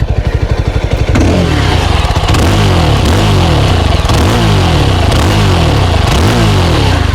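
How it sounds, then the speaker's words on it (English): A Yezdi Scrambler single-cylinder motorcycle exhaust thumps at idle, then revs repeatedly in deep, throaty bursts, loud and close with no talking. "Quite a bassy and a throaty exhaust"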